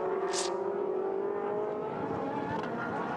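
Octane 126 race car at the 2014 Trofeo Pirelli round at Portimao, its engine holding a loud steady drone with a slowly rising pitch as it runs along the track, close and continuous.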